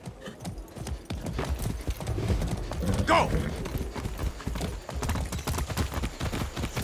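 Horse hooves clip-clop in a steady, rapid gallop in the video game Far Cry 6, with a short whinny partway through and a voice shouting over the rhythmic pounding.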